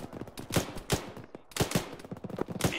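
Heavy gun of a BTR armoured vehicle in a military video game, pounding out regular booming shots in a steady rhythm at moderate distance, with no talk over it.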